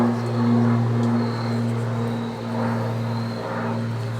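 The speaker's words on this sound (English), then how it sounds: "We have so many planes and helicopters flying overhead right now." Aircraft engines drone overhead outdoors near a greenhouse, a loud steady low hum with a swelling, rumbling texture that rises and falls throughout.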